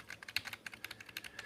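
Typing on a shallow low-profile membrane keyboard: rapid, light, irregular clicks and taps packed closely together, fairly quiet and close, with no voices.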